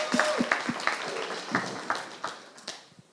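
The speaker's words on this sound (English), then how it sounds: "Round of applause for Justine." An audience at a live New York comedy show applauds for a performer named Justine, a dense, steady clatter of many hands with sharper individual claps poking out, fading slightly toward the end.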